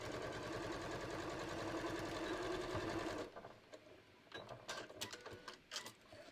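A sewing machine runs a continuous fast stitching burst for about three seconds, sewing a half-inch seam straight down on a pair of shorts, then stops, leaving soft handling clicks and rustles of fabric.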